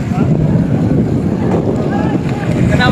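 Wooden passenger outrigger boat, a bangka, at sea off Polillo, Quezon, its motor thrumming low and steady under heavy wind buffeting the microphone, with someone talking over it.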